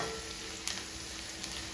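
Sesame seeds sizzling in hot oil for a dhokla tempering, a soft continuous frying hiss with faint crackles, quiet and without talk.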